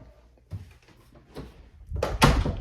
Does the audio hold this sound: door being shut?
yes